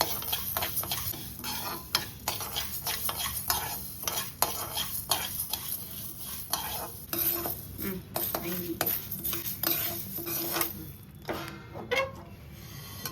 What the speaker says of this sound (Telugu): ధనియాలు 3 టేబుల్ స్పూన్, ఇది బాగా బ్రౌన్గా వేపుకుంటాం